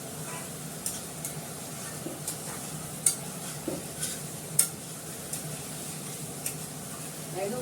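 Sugar is stirred in hot oil in a pan, a steady faint sizzle under soft, irregular scraping strokes and a few sharper taps of the utensil, moderately close, with no voices.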